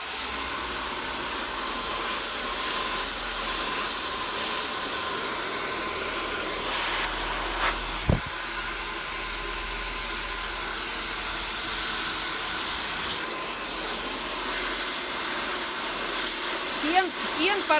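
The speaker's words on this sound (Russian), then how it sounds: "Фен параллельно полу" A hair dryer blows steadily while drying layered, medium-length thick hair at home, a constant close airy whoosh with a brief knock partway through and faint talk barely audible beneath.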